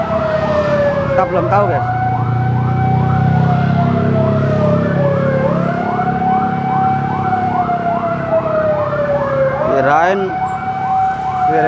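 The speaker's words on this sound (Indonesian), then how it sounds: "Mana sih sirene? Oh, dari ini masjid." A loud wailing siren from a mosque rises and falls continuously, with people talking underneath and a low rumble of traffic in the background.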